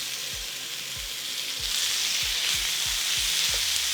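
Ground lamb sizzles in about a tablespoon of hot oil in a pan for shepherd's pie, a steady close hiss that swells louder partway through, with repeated low thumps of a spatula spreading the meat.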